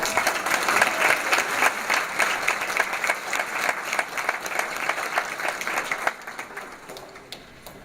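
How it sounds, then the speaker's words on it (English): Audience applause fills the hall at a college scholarship awards ceremony, a loud, dense stretch of many people clapping that holds steady for several seconds before thinning and fading toward the end. "Please help me in welcoming Ms. Bria Howard with a warm round of applause."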